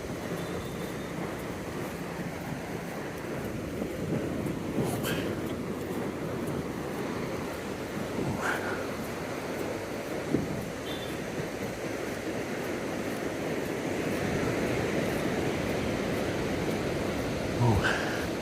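Waves and wind wash steadily over a monsoon beach in Da Nang, Vietnam, a constant surf roar with a few faint knocks and rustles and no clear talk above it.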